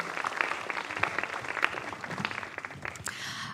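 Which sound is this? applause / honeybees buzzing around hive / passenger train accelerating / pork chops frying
applause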